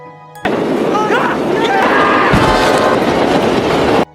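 A loud train rushes past, rattling and clattering continuously for several seconds before cutting off abruptly.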